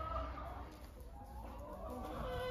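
Cockerels and chickens kept on a farm cluck softly in the rain, their low, continuous chatter sitting close by under steady background noise.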